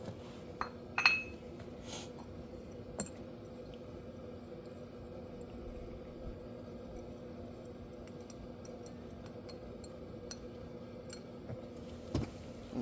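Metal tools clink and jangle in scattered bursts as someone rummages for an Allen wrench while swapping wheel center caps, over a steady low background hum.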